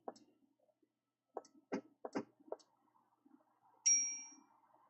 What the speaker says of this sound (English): I'll ring the bell for you